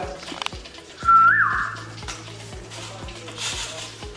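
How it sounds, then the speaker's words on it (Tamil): A person whistles one short rising-and-falling note near a running banana chips making machine, which hums and thumps rhythmically underneath in a kitchen setting. "இப்போ எதுக்கு அந்த விசில் அடிச்சிங்க?"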